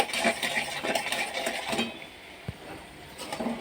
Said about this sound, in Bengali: এইভাবে নাড়তে নাড়তে যখন দেখব চিনির দানাগুলো একদমই গলে গেছে